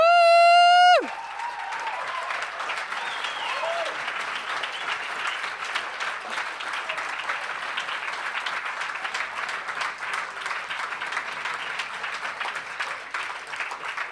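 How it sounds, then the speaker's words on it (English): Steady audience applause at a startup pitch event in Stuttgart, a broad even wash of clapping lasting many seconds after a brief opening tone, moderately loud and unbroken. "Stand up and give them a big round of applause."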